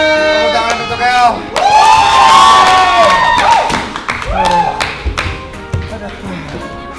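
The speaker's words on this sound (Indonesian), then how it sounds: "Tepuk tangan untuk El." A crowd claps and cheers ahead of a boxing sparring match, loud and close, with whoops and sharp hand claps rising over a lively room while voices call out amid the noise.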